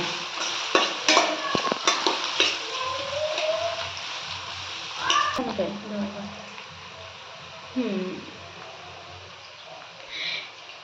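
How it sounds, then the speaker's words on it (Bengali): Onions sizzle in a pan while being fried until reddish-brown for chicken pulao, a steady frying hiss broken by clattering stirs, with a voice briefly heard in the background. "সুন্দর করে পেঁয়াজটা লাল লাল করে ভেজে তুলে নেব।"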